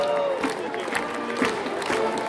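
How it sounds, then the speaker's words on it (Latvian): A crowd claps at a town festival procession in Preiļi, with uneven outdoor applause and faint crowd noise, while a sustained tonal sound hums underneath. "Aplausi!"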